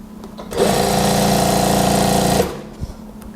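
Sewing machine running steadily as it stitches a straight seam on a sleeveless house dress, one continuous close whirring run of about two seconds that starts and stops cleanly, with no talking.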